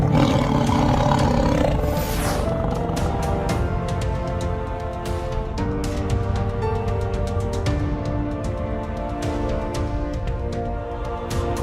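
A tiger's roar, loud and close, a sustained rough growling roar that rumbles on continuously with a throaty, pulsing texture.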